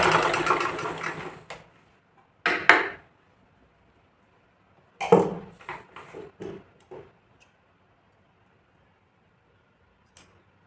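Sewing machine stitching a folded blouse strip in short runs, a long burst followed by several brief bursts and pauses, fairly close.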